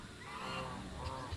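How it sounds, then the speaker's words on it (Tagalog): Female turkey on a farm giving a short, faint honking call, heard once at a distance over low background noise. "Yung babaeng pabo natin."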